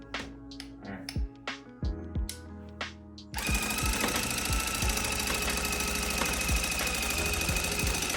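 A rug tufting gun punching yarn, at first in short stuttering bursts and then running continuously in a loud, rapid mechanical chatter with a few knocks, close up and with no talk.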